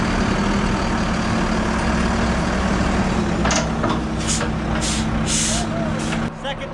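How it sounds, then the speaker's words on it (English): A concrete truck pulls up at a construction site, its heavy diesel engine rumbling steadily and loudly up close, with hissing bursts of air brakes near the end. "Second truck just showed up."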